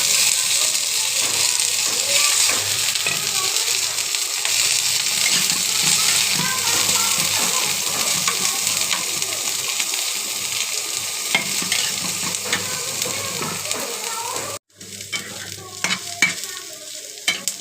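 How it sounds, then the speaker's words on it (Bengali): Garlic and onion frying together with green chillies in a pan, a steady close sizzle with scraping and stirring for most of the time, then a brief pause followed by scattered stirring clatter. "রসুন আর পেঁয়াজটাও ভেজে নেব।"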